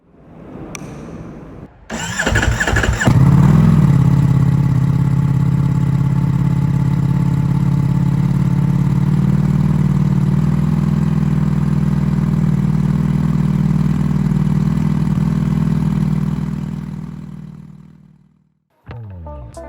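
A 2023 Ducati Streetfighter V4S V4 engine cranks briefly, fires up loudly, and settles into a strong, steady idle that runs for several seconds before shutting off; no voices.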